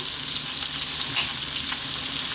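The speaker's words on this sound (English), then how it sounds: "We're now going to drop in our fresh chili" Fresh chili dropped into a hot pan with bell peppers fries with a loud, steady, hissing sizzle, close up and with no one speaking.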